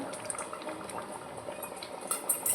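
A pot of pea and potato curry boils steadily, with continuous gentle bubbling and small pops that stay fairly quiet and close.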